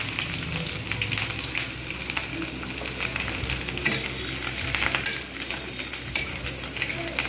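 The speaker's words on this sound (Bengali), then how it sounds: "এইবার এতে দেবো রসুন কুচনো" Chopped garlic sizzles in hot oil with dried and green chillies in a pan, with steady loud frying and occasional stirring scrapes throughout. No one speaks.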